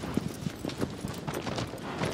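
A horse gallops in Shadow of the Colossus, a rapid, fairly soft clip-clop of hooves in an uneven, quick rhythm, with no talk over it.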